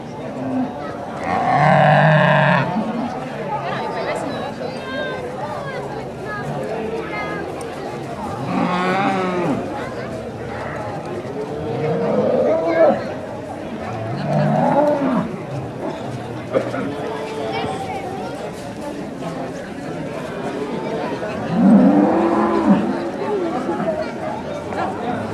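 Holstein cows low repeatedly at an indoor breeding livestock show, several deep, drawn-out moos spaced through the clip over steady crowd chatter and a talking announcer.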